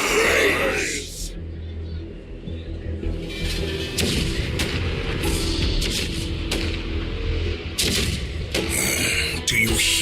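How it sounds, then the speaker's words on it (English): Cannon fire from the video game Honkai Star Rail: repeated heavy booms and thuds over a low rumble, loud and close, with a voice speaking over part of it. "The rumble of the cannons."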